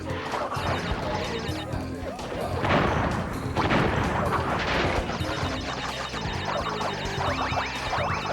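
Dense, continuous Crash Bandicoot 2: Cortex Strikes Back action with repeated projectile blasts and crashing impacts layered over music, loud and busy throughout.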